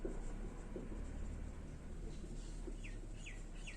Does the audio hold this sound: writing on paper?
yes